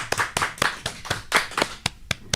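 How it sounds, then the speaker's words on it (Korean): Audience applauding a guest arriving on a Korean talk show: a short burst of sharp, close hand claps in an irregular rhythm, with no talking. "큰 박수로 환영해 주십시오"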